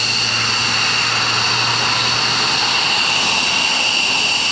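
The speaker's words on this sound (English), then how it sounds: "Passing by from Eglin Air Force Base, the F-15 West Coast demo team." An F-15 fighter jet from the Eglin Air Force Base demo team passes at an air show, a loud sustained jet roar with a high whine that holds steady throughout.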